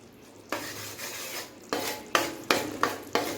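Jaggery syrup for puffed rice laddu stirred in a pan over a fairly high flame, with repeated close scraping strokes that come in a steady rhythm and grow louder toward the end.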